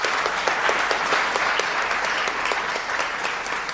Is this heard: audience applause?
yes